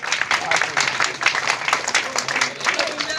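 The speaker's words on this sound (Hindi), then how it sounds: "जोरदार ताली बजाइए।" Audience clapping at a Republic Day honouring ceremony in India: dense, steady applause from a crowd, moderately close, continuing for several seconds with some voices mixed in.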